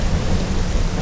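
Children slapping the floor together to imitate thunder, a dense continuous rumbling patter that sounds like rain and thunder, steady and loud, with no talking.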